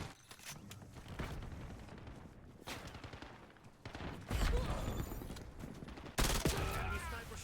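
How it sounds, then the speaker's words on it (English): Sniper gunfire in a multiplayer shooter video game: sharp, loud reports amid a busy mix of other battlefield noise, with one especially strong crack near the end and players chatting over it. "Enemy sniper shooting"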